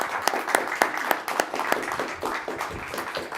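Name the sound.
audience applause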